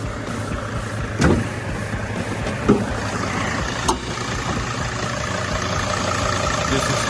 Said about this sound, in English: This is how the engine sounds.